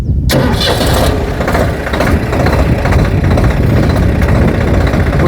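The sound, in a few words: vehicle engine starting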